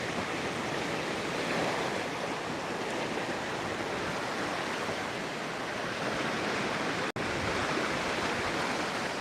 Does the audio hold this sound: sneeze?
no